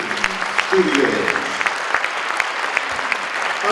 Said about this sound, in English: Round of applause again, ladies and gentlemen,